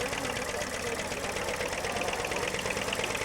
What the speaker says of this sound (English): The V4 diesel.